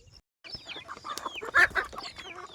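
Farm hens clucking close by, a burst of short throaty clucks and squawks after a brief silence, with one louder cackle near the middle, no talk.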